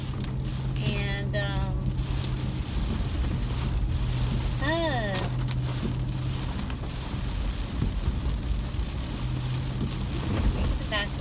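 Rain falls steadily on a car during a drive along a town back road, a continuous broadband hiss under a low engine hum, with brief tonal sweeps and some voice-like sounds mixed in.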